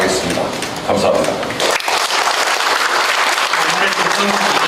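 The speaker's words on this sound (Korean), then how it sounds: "오늘 시정 운영 방향을 설명해 주신 시장님께 다시 한번 힘찬 박수를 부탁드립니다" A crowd at a residents' town hall meeting with the city mayor in Icheon's Baeksa-myeon claps steadily and loudly, the applause continuing throughout with voices mixed in.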